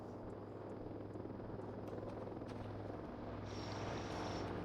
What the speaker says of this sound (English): I hope that sound is our drone.